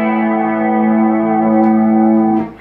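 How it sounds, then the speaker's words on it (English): An electric guitar plays through a pedalboard with a modulation pedal adding a slight warble and EQ shift, sounding one sustained chord that rings loud and close and then fades at the end. "you just get a little bit of just a tiny bit of warble and a little EQ shift"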